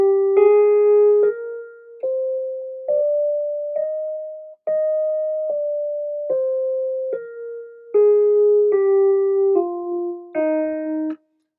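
A major scale played on a GarageBand keyboard, with clear separate notes stepping up and back down in a steady rhythm, close and alone with no talking.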